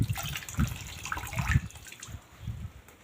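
A saree being hand-washed in a bucket of dye-tinted water gives soft repeated sloshes and splashes with dripping, close and fairly quiet, with no talking.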